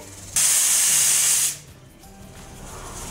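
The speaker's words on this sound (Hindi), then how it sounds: "1 विसल आ चुकी है" A pressure cooker whistle lets out one loud, sustained hissing blast of steam for about a second, then cuts off to a quiet background hiss.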